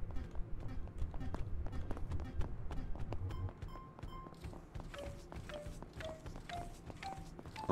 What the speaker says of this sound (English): I can hear the footsteps.